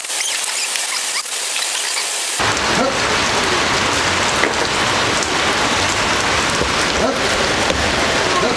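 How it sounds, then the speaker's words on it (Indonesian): Steady rain falls close by, a dense, continuous patter that swells abruptly after a couple of seconds and then keeps on loud and unbroken. "Sorry kalau suaranya agak berisik karena di sini sedang hujan."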